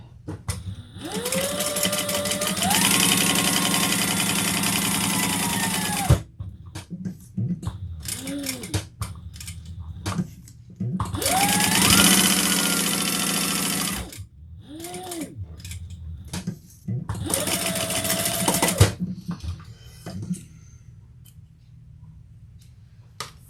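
A sewing machine stitches a bag pattern in three long runs, each a steady mechanical whir with a rising and falling motor pitch, separated by short clicks and handling noises, with no talking.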